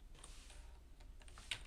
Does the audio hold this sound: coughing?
no